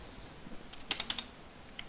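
A short burst of keyboard typing, several quick key clicks clustered together then a single stray tap, fairly quiet against a soft background.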